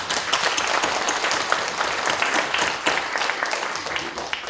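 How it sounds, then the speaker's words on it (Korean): Church congregation applauding to give glory to God, a steady, dense wash of many hands clapping at close range for several seconds, with no voices over it. "하나님께 영광 드리는 박수"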